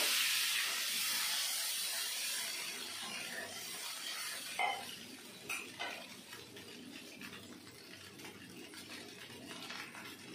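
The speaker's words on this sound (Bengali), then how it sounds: "এবার দিয়ে দেবো পরিমাণ মতো জল" Water poured into a hot pan of mustard fish gravy gives a steady steaming hiss that fades slowly, with a few soft utensil clinks near the middle.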